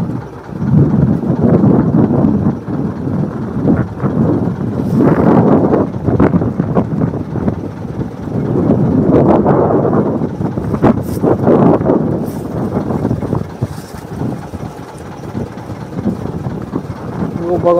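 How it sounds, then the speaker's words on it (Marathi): Strong wind buffets a dol-net fishing boat out on the deep sea, a continuous loud rushing roar that swells and eases over a low rumble of water against the hull. "वारा सुद्धा जाम वारा सुटलाय"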